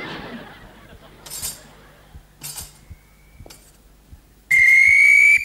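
A sheriff's whistle sounds in a radio comedy sketch, one sharp steady blast near the end, loud and close, after scattered clinks and quiet background.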